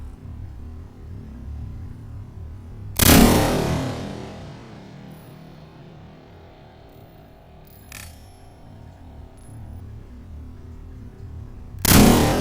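An AR-style carbine rifle fires two sharp, loud single shots outdoors, each with a lingering decaying tail, spaced roughly nine seconds apart with quiet ambience between.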